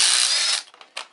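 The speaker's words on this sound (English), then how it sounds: "I'm just going to tighten it down until the wheel comes off." A ratchet wrench cranks a 1/2 inch bolt on a wheel puller on a Jeep Wrangler TJ, a loud dense stretch of rapid clicking that stops, followed by a few separate, sharper clicks.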